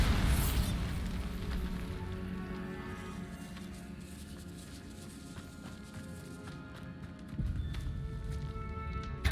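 A Bombarda explosion spell goes off in the Hogwarts Legacy video game: a loud blast at the start, fading into a long rumbling tail with scattered game effects, then another burst near the end.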